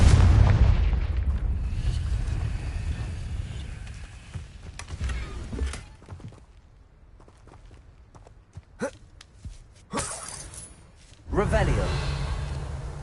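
A Confringo blasting-spell explosion in a Harry Potter parody: a heavy boom opens the scene and decays into rumble, followed by scattered thumps and a second blast near the end, with a voice speaking around the impacts.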